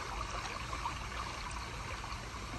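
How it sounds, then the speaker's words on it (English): Water bubbles up steadily in a shallow zero-entry pool about a foot and a half deep at a lodge resort, a continuous soft trickling burble at close range with no voices. "A little water that bubbles up."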